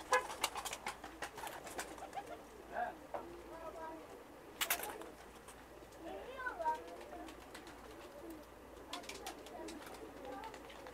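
Several Serbian crested pigeons, seven males and females, cooing softly and intermittently with wing flutters and small clicks, while someone talks over them at a low level.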